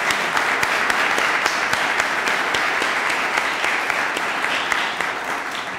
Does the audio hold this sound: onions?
no